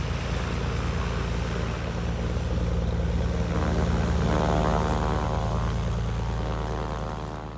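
Cirrus G7 propeller airplane taxiing at an airpark in Alpine, Wyoming, its engine and propeller droning loud and steady, swelling slightly midway then easing off.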